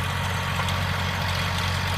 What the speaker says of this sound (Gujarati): અને વાડીમાં ટ્રેક્ટર હાલે છે